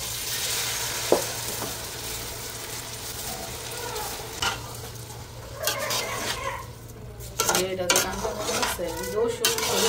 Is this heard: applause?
no